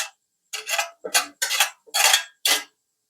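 Cooked tapioca being stirred and mixed in a pan: six distinct scraping strokes of a utensil against the metal, each short and close, separated by brief silences, with no talking.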